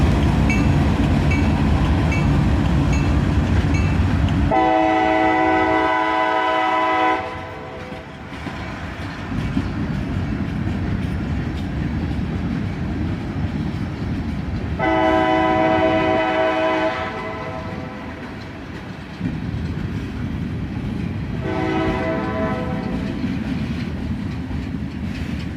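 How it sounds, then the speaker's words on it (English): A CSX freight train led by an SD42 rolls slowly through town, its horn blowing in three long, loud blasts over a continuous rumble of wheels and cars. "This CSX train strolls slowly through town on this hot Sunday afternoon."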